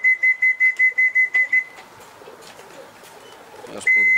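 Racing pigeons homing to a loft during a club race: a rapid run of eight even, high-pitched beeps, then a softer stretch of faint bird sounds and flutter, and a final steady beep.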